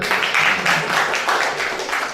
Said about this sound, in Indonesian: terima kasih tepuk tangan semuanya